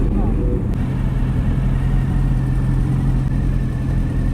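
A group of Suzuki big bike motorcycles idles nearby on an anniversary ride to Subic, giving a low, steady engine rumble with slight revving throughout. People talk over it.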